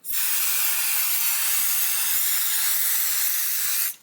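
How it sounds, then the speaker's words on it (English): A steady, close hiss of an aerosol can of 505 adhesive spray spraying fabric batting continuously for several seconds, then cutting off abruptly. "I'm going to grab my 505 spray and spray the batting"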